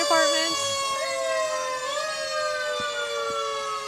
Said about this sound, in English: Vernon fire engine. Very exciting.